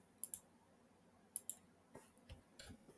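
Mouse clicks on a computer while opening a link in an online map story, two quick close double clicks near the start and another pair a second later, then softer taps, faint in a quiet room.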